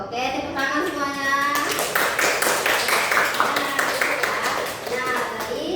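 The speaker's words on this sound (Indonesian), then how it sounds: "Oke, tepuk tangan semuanya." Students in a classroom clap together in a burst of applause that starts after a voice speaks, steady clapping continuing underneath chatter for several seconds.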